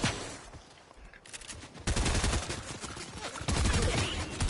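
Bursts of video game gunfire crack through, first sparse, then louder, denser volleys in the second half, with some background noise under them.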